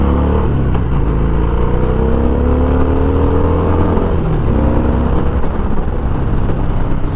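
A 2015 Harley-Davidson Dyna Low Rider V-twin pulls away hard, its loud, close exhaust rising in pitch through the gears with a steady rumbling drone and no talking.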